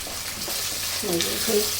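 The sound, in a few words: ginger and garlic frying in a pan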